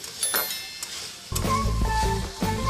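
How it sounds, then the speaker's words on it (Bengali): Chicken curry spices and tomatoes stirred with a spatula in a pan, a close frying sizzle with scraping strokes that turns louder and denser as the tomatoes go in, scraping continuing through it. "এই খুন্তি দিয়ে নাড়াচাড়া করতে হবে।"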